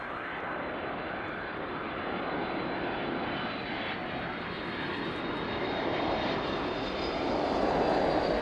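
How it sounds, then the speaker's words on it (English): A DHL Boeing 767 arriving from Leipzig in the evening makes a steady, broad jet roar that swells slightly near the end as it comes down onto runway 09 at East Midlands. "Next aircraft then is the DHL 767 in from Leipzig this evening."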